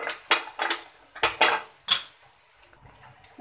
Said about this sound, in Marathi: मी दुसऱ्या गॅसवर पॅन ठेवते।